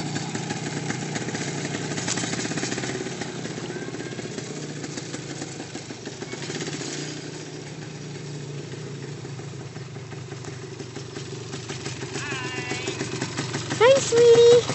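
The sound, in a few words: motorcycle engine idling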